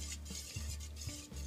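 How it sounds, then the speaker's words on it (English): A whisk beats a mixture in a heat-proof bowl set over simmering water, giving quiet, rapid, repeated strokes against the bowl while the heat hisses underneath. "This has to be whisked the whole 5 minutes"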